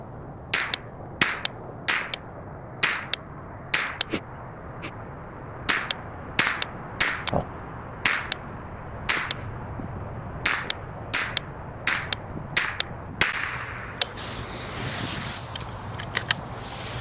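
Rifle shots from a Ruger 10/22 fitted with a Ballistic Advantage barrel, fired from a bipod at an outdoor range, crack out as sharp reports in regular groups of five, spaced a second or so apart, over steady low wind and background rumble.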